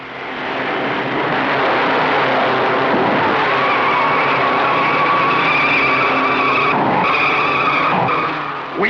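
A 1956 Indy 500 race car roars down the main straight in a loud, sustained engine drone with whining overtones, rising in pitch toward the end on an old, filtered film soundtrack.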